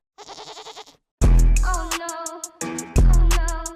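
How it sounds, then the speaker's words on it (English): Goats in Madden 22 let out several loud, wavering bleats, a shorter call first and then longer, harmonically rich cries that follow one another closely. "There's two goats."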